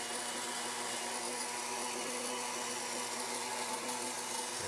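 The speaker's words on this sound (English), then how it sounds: "Noisy blender, noisy." Blender whirring steadily as it purees creamy cauliflower soup, a continuous even motor drone that is fairly faint and unchanging for several seconds with no voices.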